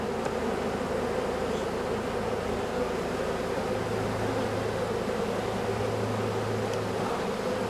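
Honey bees buzz continuously at a strong hive during robbing, a dense, even drone of many insects close by, with no voices.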